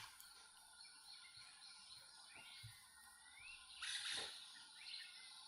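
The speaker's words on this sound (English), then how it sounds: "There's an Aztec parakeet calling there." An Aztec parakeet calls in Guatemalan forest, giving faint, distant chirps and one brief louder burst, over a steady insect and bird chorus.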